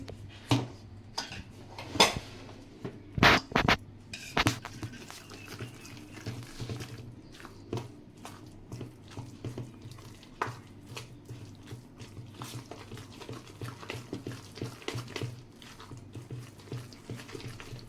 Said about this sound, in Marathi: आता हे मी व्यवस्थित मिक्स करून घेते